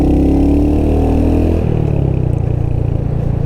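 A Royal Enfield Hunter 350 single-cylinder motorcycle pulls away under moderate throttle, its steady mid-pitched engine thrum loud and close, settling into a firmer, even beat as it gathers speed.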